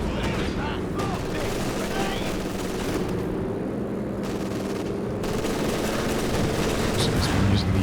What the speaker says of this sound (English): Good suppression in there from the machine gun.